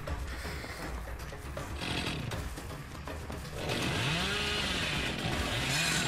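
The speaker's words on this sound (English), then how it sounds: "I need to hit him with the chainsaw so that way that effect can work" Hillbilly's chainsaw in the horror game Dead by Daylight revs loudly and steadily, with the engine whine rising and surging near the end over a constant gritty drone.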